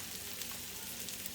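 Butter sizzles steadily in a hot pan with Brussels sprouts, a continuous close frying hiss with no voices over it.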